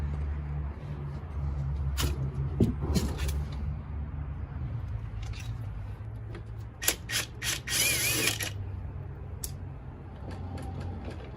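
Hand tools click and ratchet while the front wheel comes off a wrecked Honda Ruckus scooter, with intermittent metallic ticks, clanks and scraping bursts close by over a low background hum; no one talks.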